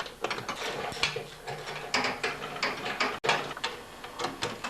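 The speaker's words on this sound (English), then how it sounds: "So now I'll make sure all 3 bolts are tightened up." A ratchet wrench clicks rapidly in short bursts, close by, while the engine shroud bolts on a Briggs & Stratton snowblower engine are tightened during a pull-start repair.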